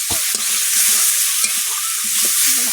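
Oil and a splash of water crackle in a pan as the contents are stirred and fried, a loud, close, continuous sizzle broken by scraping stirs.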